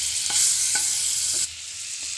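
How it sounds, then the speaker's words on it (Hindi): About two spoons of Amul butter melt in a pan for white sauce pasta, giving a bright, steady sizzling hiss with a few faint taps; the hiss drops slightly partway through. "अब हम इसमें फिर से मक्खन डालेंगे। मैंने 2 चम्मच के करीब मक्खन लिया है अमूल का।"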